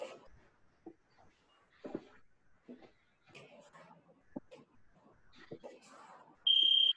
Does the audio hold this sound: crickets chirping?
no